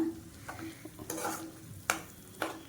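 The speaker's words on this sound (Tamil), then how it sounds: "நல்லா இப்படி கிளறி விட்டுக்கோங்க" Egg gravy being stirred in a frying pan, with soft scraping strokes of a spoon and a few sharper clinks against the pan over a low, steady sizzle; no voices.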